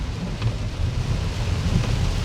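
Steady rain during a wet-weather test drive of a BYD Yuan Plus EV electric SUV, a dense continuous hiss and rumble with wind noise, loud and unbroken throughout.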